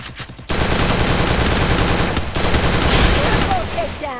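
Rapid automatic gunfire from a shooting video game, dense and loud bursts running nearly the whole time, with a brief gap and a few quieter shots at the start.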